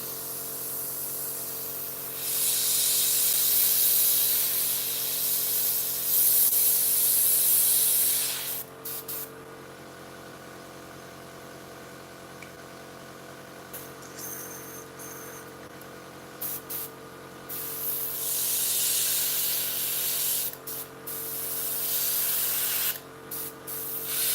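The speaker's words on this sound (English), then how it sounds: "Something funny is happening with my airbrush." Airbrush spraying paint onto a 1/48 scale Eduard Tempest model, a loud steady hiss running in long bursts that stop abruptly, with a quieter stretch in the middle before spraying resumes.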